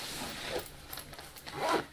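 A backpack hip belt pocket's YKK zipper is pulled, giving a couple of soft rasping zips with light fabric rubbing, close and fairly quiet, no talking.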